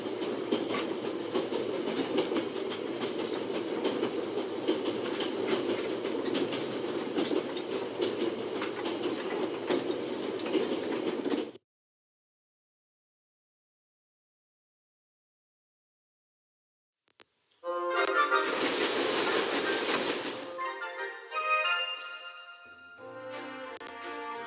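A train in motion in The Raven: Legacy of a Master Thief, a steady rumbling clatter of wheels for about eleven seconds, then silence, then louder rattling and screeching returning near the end.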